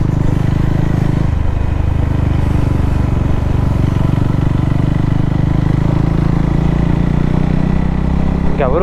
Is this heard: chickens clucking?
no